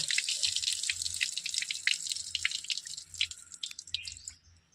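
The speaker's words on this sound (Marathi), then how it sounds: "आता मी 2-3 पाण्याने स्वच्छ धुवून घेणार आहे" Palak spinach leaves being rinsed in water, with continuous splashing, dripping and trickling close by, gentle and steady without any talk.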